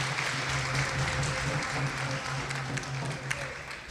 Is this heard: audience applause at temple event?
yes